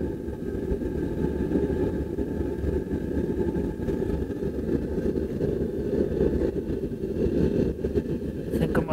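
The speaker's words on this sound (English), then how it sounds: "having that pipe down inside is really blowing some air in there because that blower is on as low as it goes" A blower on a homemade used-oil burner runs at its lowest setting, feeding air down a pipe into the burner: a steady, loud low rumble and whoosh that holds even throughout, with no talk over it.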